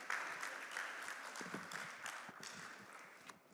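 An audience at a cinema awards ceremony breaks into applause, a steady crowd clapping heard at moderate distance that slowly thins toward the end.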